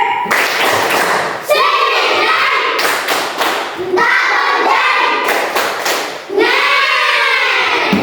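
A group of children in a classroom claps hands in quick bursts of rhythmic slapping for the Tepuk Anak Pintar clapping chant, with voices chanting along loudly throughout.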